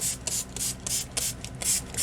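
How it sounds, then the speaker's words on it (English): Short hissing bursts from a spray bottle spraying water onto acrylic paint on a gel plate, about seven quick squirts in an uneven rhythm, close by. "Spraying the water away from me"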